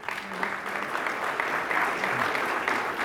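Steady applause from a gala evening audience as sponsors are honoured, a dense continuous clapping that fills the whole stretch without pause.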